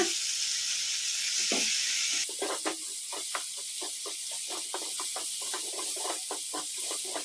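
Tomatoes and tamarind frying for fenugreek leaf and tomato chutney, a steady soft sizzle with faint rhythmic scraping as the mixture is stirred, quiet and close with no talk.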